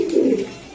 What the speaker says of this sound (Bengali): আফসান কোয়ালিটি দেখছেন, আফসান কবুতর মাশাআল্লাহ, কালারে চিকচিক করতেছে